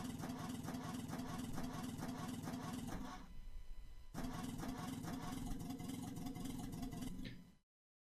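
A car engine in The Long Drive video game runs at a steady, loud droning idle, briefly dropping out for a moment before resuming and then cutting off abruptly at the end.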